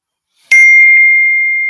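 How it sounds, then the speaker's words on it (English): A single loud, bright phone text-message notification ding strikes close up and rings out with a long, steady, slowly fading tone, heard alone with no talk. "That was your phone? That shit was loud as hell in my ear, bro."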